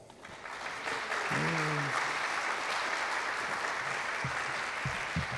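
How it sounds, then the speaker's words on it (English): Audience applause at a 2019 tribal council principal chief candidate debate, a steady wash of clapping from a crowd that swells in and holds for several seconds, with a few faint voices briefly audible underneath. "Please thank these candidates for their participation through your applause."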